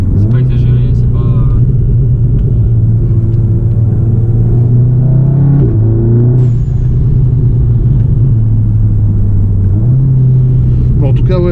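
Deep, throaty exhaust drone from a 340 hp Volkswagen Golf GTI while driving, a steady low rumble that rises and drops with gear changes, heard from inside the car with someone talking over it throughout.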